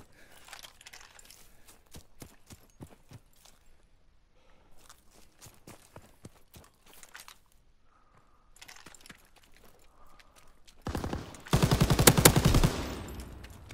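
Burst of rapid automatic gunfire in Call of Duty WWII, loud and dense near the end after a stretch of quieter scattered shots and footsteps.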